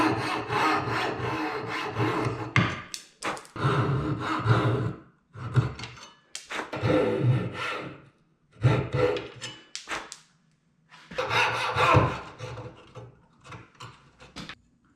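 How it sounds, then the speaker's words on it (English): Coping saw cutting out the waste between dovetails in a wooden box, hand tools only: bursts of rasping back-and-forth strokes, close and fairly loud, separated by short pauses, with no talking. "Remove the waste with either a coping saw or a chisel."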